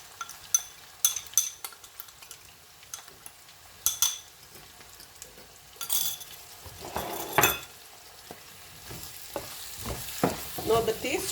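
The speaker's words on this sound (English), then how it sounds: "Now the taste of this curry is actually frying this masala well. The more you fry it, you see it's sticking slightly to the bottom," Masala for a potato stew frying and being stirred in a pan, with sizzling broken by repeated spoon scrapes and clinks against the metal, loud and close with no talking.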